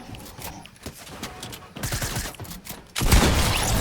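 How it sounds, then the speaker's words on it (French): Gunfire in a battle royale video game, bursts of rapid shots that grow denser and louder toward the end, with no speech over them. "du coup là je lui rentre une petite balle"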